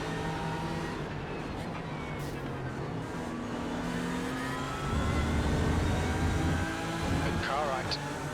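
GT3 race car engines drone and rev at Hockenheim in the iRacing simulator, a dense continuous engine roar with rising pitch sweeps, swelling louder partway through as cars accelerate together.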